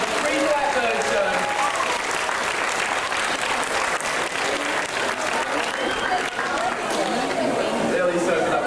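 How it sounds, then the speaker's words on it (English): Audience applause at a wildlife sanctuary bird show, dense continuous clapping from a large outdoor crowd mixed with chatter and voices throughout. "Really soaking up the applause there, Mercedes."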